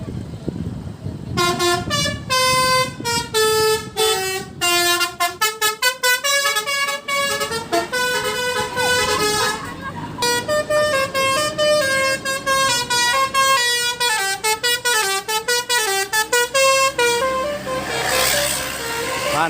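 Indonesian buses sounding telolet basuri musical horns, loud multi-tone melodic honks played in quick tune-like bursts and phrases, one after another, with brief pauses and occasional background voices.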